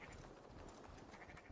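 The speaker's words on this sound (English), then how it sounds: "that right there, that's a clip clop of hoofs" Horse hooves clip-clop in Assassin's Creed Valhalla, a steady run of soft rhythmic hoof beats under continuous game ambience, fairly quiet and close.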